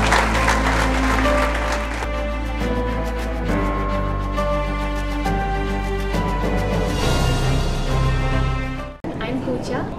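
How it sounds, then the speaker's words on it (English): An audience applauds at an award ceremony, with steady clapping running under loud music and an announcer's voice throughout before a brief drop near the end. "Big round of applause to all the 60."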